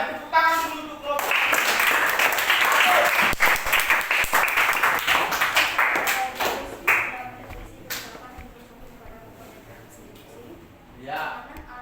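Students in a classroom applaud a student group, with a dense burst of clapping that fades into scattered claps, and talk and children's voices mixed in around it.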